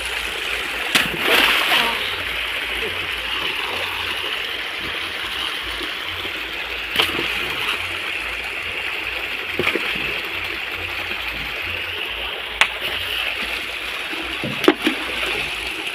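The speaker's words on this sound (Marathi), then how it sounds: "फार्म हाऊसच्या बाहेरच नदी." A small river flows just outside a farmhouse, giving a steady splashing rush of water that continues throughout, with a few sharp knocks and faint voices underneath.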